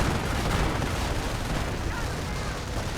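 Machine gun and artillery fire in a World War II strategy game battle, with tank-mounted machine guns on Panzers suppressing troops; a dense, continuous wash of rumbling gunfire and blasts with no clear separate shots.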